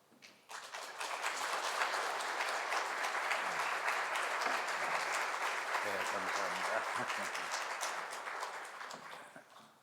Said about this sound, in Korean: 우리 선교사님 나오실 때에 격려와 축복의 박수로 함께 마주하겠습니다.